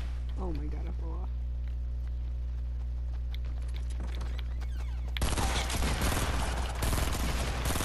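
Gunfire in the Fortnite video game: voice-backed game noise gives way to a loud, dense spray of shots filling the last few seconds.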